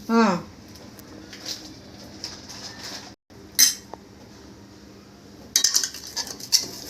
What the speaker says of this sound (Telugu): బాగా మసాలాలు చికెన్కి బాగా పట్టాలి అందుకనేసి ఒకసారి బాగా ఇలాగా కలిపేద్దాము